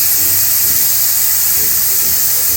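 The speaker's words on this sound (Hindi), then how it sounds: "एयर प्रेशर कुकर की निकल रही है यहाँ पे आप देखें" Steam hissing steadily out of a pressure cooker while meat and spices cook, a loud continuous broadband hiss with faint low rumble beneath, no talking.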